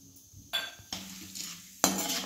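Dal frying in hot oil with toasted coconut for crunchy chivda, three bursts of stirring and pan scraping, each followed by a sizzling hiss that fades back to quiet.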